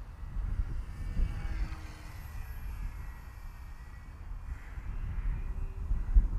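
A small Jumper T-Lite radio-controlled fixed-wing plane flies overhead, its light engine a steady, distant drone under outdoor wind rumble, with no talking.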